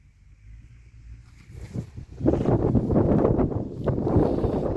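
Wind buffets a microphone out in a watermelon field, starting as a low rumble and swelling after about two seconds into loud, steady gusting noise with no talking.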